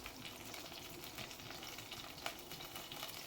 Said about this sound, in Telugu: ఇప్పుడు దీన్ని ఒక 2 మినిట్స్ దాకా ఫ్రై చేసుకోవాలి